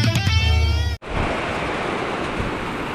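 Heavy storm rain with big drops, a dense steady roar that cuts in suddenly after a brief lull and continues loud and close.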